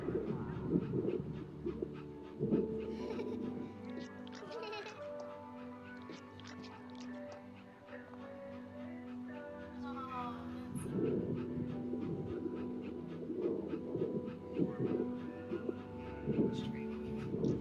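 Dog panting and whimpering in the video game That Dragon, Cancer, heard under continuous game music and occasional talk, with a steady soft texture that stays fairly close throughout.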